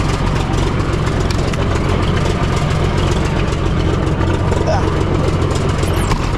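A combine harvester engine idling while it warms up, a steady loud low drone with no change in pitch from start to end.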